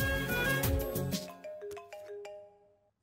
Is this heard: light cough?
no